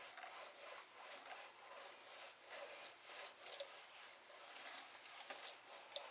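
Steady hand rubbing on a part of a 2018 Toyota C-HR XLE, a soft continuous scuffing with faint repeated strokes, close and fairly quiet with no talk.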